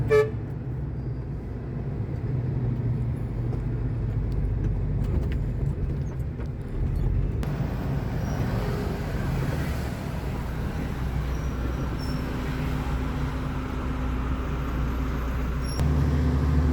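Steady low engine rumble and road noise from inside a truck travelling along a quiet road at dusk, with a horn toot partway through and the drone continuing throughout, no talk.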